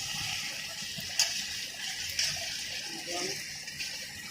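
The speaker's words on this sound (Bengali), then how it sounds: "এখন একটু ঝোল দিব, অনেক সুন্দর করে কষিয়ে নিতে হবে।" Broth poured into a curry frying in a pan, a soft steady watery gush with light splashes, fairly faint and close, continuous for a few seconds.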